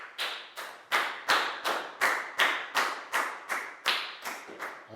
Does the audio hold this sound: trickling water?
no